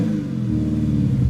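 A Hellcat-powered 1967 Dodge Dart with Borla mufflers revs up close, a loud, deep, rumbling engine note that rises briefly and holds, with no talking.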